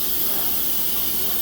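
Steam hisses loudly and steadily from a steam pot cooking Dominican-style mussels, a continuous close rush with no breaks.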